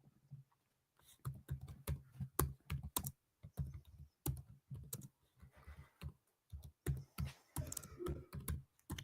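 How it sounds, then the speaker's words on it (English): A computer keyboard is struck hard in rapid, irregular bursts of loud clacking keystrokes with brief pauses between flurries, close to the microphone. "There I am, typing really hard on my keyboard"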